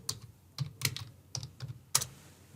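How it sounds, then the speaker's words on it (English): Keystrokes on a computer keyboard as a website address is typed into a browser's address bar: a quick, uneven run of separate clicks, close and fairly quiet, with no talking. "I'm going to type pabbly.com"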